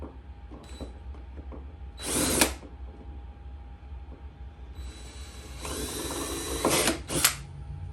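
Two bursts of a power drill whining, a short one and then a longer one with pauses, over quiet background hum, close by.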